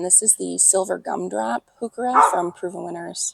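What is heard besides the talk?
dog barking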